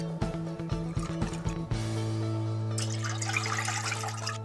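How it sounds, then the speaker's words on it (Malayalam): Water poured from a measuring vessel into a cooking pot, a steady splashing, filling stream close by that runs continuously through most of the clip. "ഇനി നമുക്ക് ഈ അളവ് പാത്രത്തിൻ്റെ 1/4 ഭാഗം വെള്ളം കൂടി ഒഴിക്കാം."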